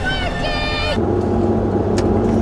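A Toyota 60 Series runs along the road with a steady, droning engine and road roar, while a voice speaks over it in the first second.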